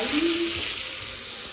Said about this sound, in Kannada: ಲೈಟ್ ಬ್ರೌನ್ ಕಲರ್ ಈ ತರ ಹಾಕ್ಬೇಕು ಅಲ್ಲಿ ತನಕ ಫ್ರೈ ಮಾಡ್ತಾ